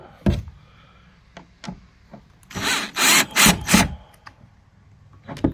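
A power drill drives a screw into a wooden part of a homemade kayak steering setup, with a few short taps followed by a cluster of loud, close bursts of whirring and grinding.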